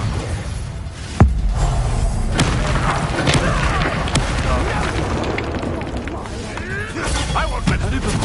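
Confringo fire spell explosion in Hogwarts Legacy on PS5: a sharp booming blast early on, followed by further thuds and crackling impacts amid busy game combat noise.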